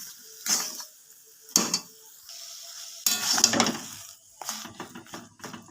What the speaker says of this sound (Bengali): এবার সব কিছু ভালো করে একটু কষিয়ে নেব।